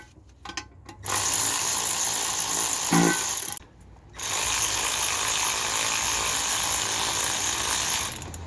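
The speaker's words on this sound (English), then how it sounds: "just cheat by using this gun. It speeds things up a lot." Power gun tightening a part under a Rover 45 during sump and tappet work: two sustained bursts of loud, buzzing whir, the first about two and a half seconds, the second over four, separated by a brief quiet gap.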